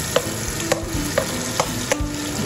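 Onions sautéed for sambal ikan bilis tempoyak, a close steady sizzle with regular scraping strokes of a spatula as they are stirred toward caramelized, no speech.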